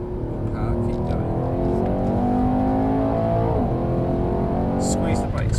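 A Mercedes-AMG car on a driving-experience track accelerates out of a corner with a loud, sustained engine note that climbs steadily in pitch, close by, while an instructor talks over it.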